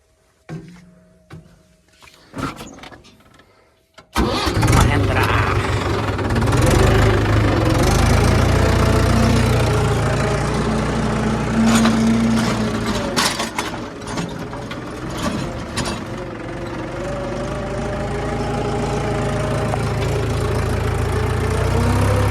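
A John Deere 5210 tractor engine sits silent, then cranks and catches at about four seconds, settling into a loud, steady, close idle with a low rumble and a knocking throb that runs to the end.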